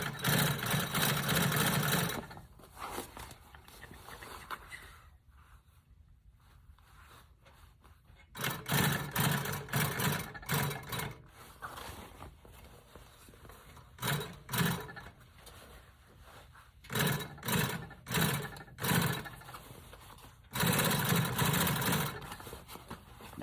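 An electric sewing machine stitches vinyl top material for a Chevy Brougham in bursts of fast, steady whirring, pausing between runs, close up with no talk.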